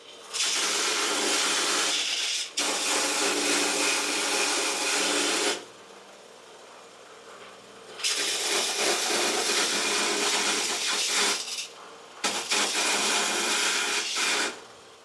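A part being filed down with a power tool, three long, loud, steady grinding bursts separated by brief pauses, close to the microphone with no talking.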